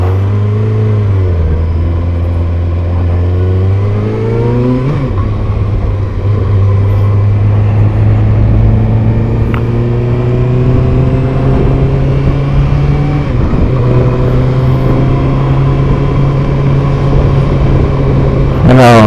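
A Kawasaki ZX6R 600 sport motorcycle engine while riding, a loud steady drone with clear harmonic tones that rise and fall through gear changes, continuous for the whole stretch with wind noise around it.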